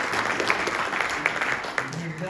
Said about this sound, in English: Give him one big round of applause again.